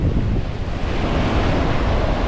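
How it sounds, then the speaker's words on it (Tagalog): Heavy ocean surf roars without a break on Boracay, strong waves crashing in a thick wash of noise with wind buffeting the microphone. "medyo nagagalit ang dagat, malakas ang alon"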